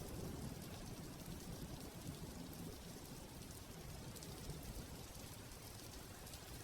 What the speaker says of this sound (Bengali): এই বৃষ্টি আর ভালো লাগছে না রে ভাই